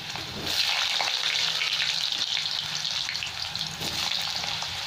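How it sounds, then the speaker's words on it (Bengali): Potatoes frying in very hot mustard oil, a close, steady crackling sizzle that swells slightly as pieces settle, continuous and without any voices. "এখন আমি আলুগুলো ভেজে নেব। সর্ষের তেল দিয়েছি, তেলটা খুব গরম হয়ে গেছে।"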